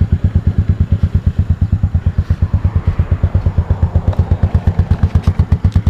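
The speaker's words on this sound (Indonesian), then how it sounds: "Bunyi dia memang sangat sangat senyap lah. Dan exhaust bocor sikit lah." A first-model Modenas Kriss 110 motorcycle idling close by with a slightly leaking exhaust, giving a loud, even, rapid putt-putt pulse that stays steady throughout with no talking.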